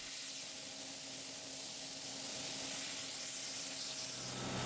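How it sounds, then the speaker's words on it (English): Compressed air from a blasting nozzle blows dust off an aircraft at a plastic media blasting facility, producing a steady, unbroken broadband hiss at moderate level with no voices. "he's going to blow all the dust off the aircraft with just the compressed air from the nozzle"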